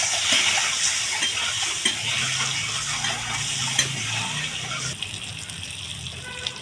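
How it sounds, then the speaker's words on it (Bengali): An egg fries in a pan with turmeric and salt, giving a steady bright sizzle with occasional stirring scrapes, close and continuous throughout. "এখানে দেখো ডিমটা আমি ভেজে নিয়েছি"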